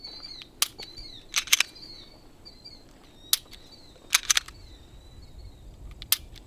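Sharp, isolated trigger clicks from a Smith & Wesson M&P 2.0 metal pistol being dry fired, several single and paired snaps spread unevenly, close, over faint birdsong in the background.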